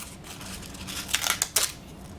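Foam wheel insert for a SkyCart tire being cut loose from its sheet, a few short rasping snips and tearing crunches close up over a soft background hiss.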